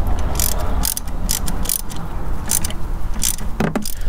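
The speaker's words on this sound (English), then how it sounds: "slowly turn it counterclockwise, you'll eventually loosen this bolt and then it'll pop off just like that" Ratchet wrench loosening a bolt on a Mercedes auxiliary battery, rapid repeated clicking strokes close up in short bursts, ending with a sharper knock as the bolt gives.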